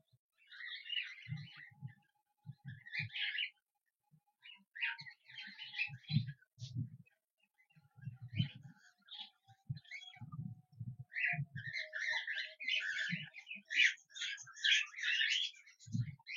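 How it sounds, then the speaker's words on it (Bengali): Cockatiels chirp and twitter at a feeding dish, holding a pet-bird diet that includes food for chicks, in repeated bursts of bright calls mixed with low knocks and scratching, moderately close, pausing briefly before getting busier toward the end. "দেখেছেন, দেওয়া মাত্রই পাখি নেমে চলে এসছে খাবারের জন্য।"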